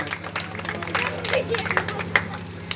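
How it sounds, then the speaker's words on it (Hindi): Audience clapping at a student merit award ceremony, scattered claps from a crowd with murmured voices and speech mixed in, moderately close. "जोरदार तालियों के साथ सब लोग"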